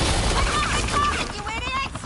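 Gunfire in the Batman: The Enemy Within video game, dense rattling shots under a tense music bed and a voice talking over it.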